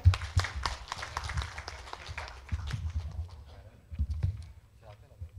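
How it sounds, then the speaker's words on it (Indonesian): Audience applause at a national seminar, a moderate patter of clapping that rises and fades unevenly, with some louder individual claps and low room rumble beneath. "boleh berikan tepuk tangan yang meriah"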